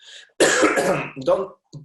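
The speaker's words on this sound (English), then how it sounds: "I coughed again to my hand" A cough into a hand during a talk on post-Covid investment, a short throat-clearing burst followed by a harsher cough and a brief trailing sound, close and fairly loud.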